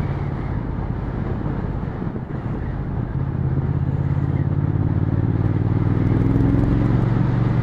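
A Triumph Speed Twin 1200 motorcycle with its stock, rather quiet exhaust gives a steady low rumble while riding. The drone is continuous and slowly rising, mixed with wind noise on the microphone.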